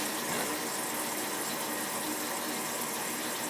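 Water running continuously into a toilet tank that keeps refilling, a steady hissing rush without pauses, close and fairly loud, with no voices.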